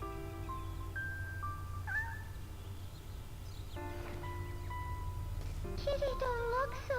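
A cat in the Shenmue video game gives several short meows spread across the moment, over a low steady in-game ambient hum and music tones.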